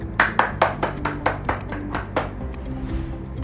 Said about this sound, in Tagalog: bigyan ng masigabong palakpak ang iyong sarili